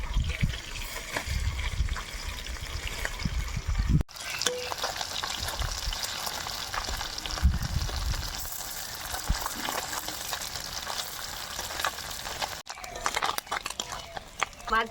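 Puti fish carrying roe fry in hot oil in a kadai after being flipped, a loud, busy sizzle with spattering pops that runs throughout, broken by two sudden cuts, with someone talking over parts of it.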